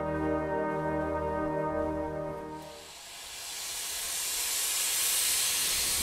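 A steady mechanical drone with a deep hum gives way to a loud, rushing hiss of steam, like a train venting as it moves.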